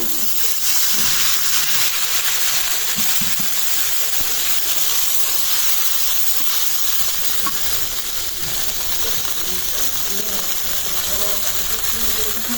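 Water poured onto spices in hot oil, with bay leaf, dried chili and cumin, sets off a loud, continuous hissing sizzle and steam burst that holds steady close by.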